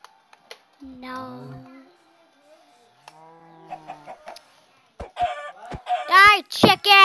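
Chicken clucking in the Minecraft video game, appearing as a few short clucks and squawks mixed with game sounds, while a person talks excitedly over it.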